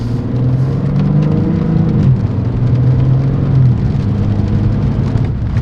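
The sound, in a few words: BMW M4 Competition being driven down the road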